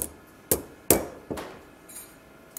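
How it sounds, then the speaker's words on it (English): Close hammer blows on a steel scissor blade as a curve is shaped into it after the two halves are screwed together: three sharp metallic strikes at irregular intervals, then quieter faint taps. "a perfect curve is hammered onto each blade"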